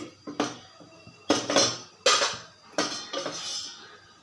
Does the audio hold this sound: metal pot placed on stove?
yes